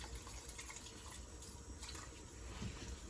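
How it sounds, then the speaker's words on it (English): Steady rushing of water pouring into a pan of soul food, continuous and fairly quiet, with a faint sizzle underneath. "Now I'm gonna put my water on it."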